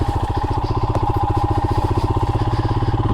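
A Royal Enfield Himalayan motorcycle engine sits at a high idle, close and steady, with an even, rapid thumping pulse throughout.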